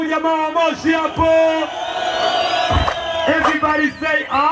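A crowd at a contest cheers and whoops loudly for a contestant from Moshi, with bursts of shouting rising and falling over a few seconds and an amplified voice calling out over it.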